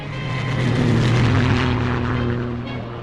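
A propeller airplane roars during takeoff, a loud steady engine drone with a low droning hum that swells toward the middle and eases slightly at the end.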